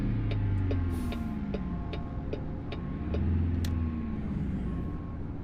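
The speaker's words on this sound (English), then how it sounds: "I'm not sure how I feel about this truck sound-wise" A 1970s Fleetstar 2070A logging truck in a video game reverses with a steady low engine drone. A regular, evenly spaced backup beep repeats over it throughout, close and fairly loud, with no talk.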